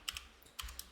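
Brief bursts of typing on a computer keyboard, a handful of crisp key clicks in two short clusters, close and fairly quiet, with no voices.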